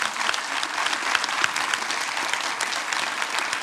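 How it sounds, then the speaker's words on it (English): An audience applauds a panel at a community action talk, a brisk, even clatter of many hands at moderate volume, continuing steadily without voices. "can you give a round of applause for our panel"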